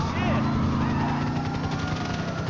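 A helicopter in the video game GTA 5 gives a steady, rumbling rotor drone with a faint rhythmic pulse. It blends continuously with other engine noise in the game mix for the whole stretch.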